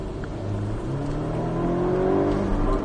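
A Porsche 718 Cayman S engine on a race circuit revs up steadily, its pitch climbing as it accelerates, loud and close with a droning rumble throughout.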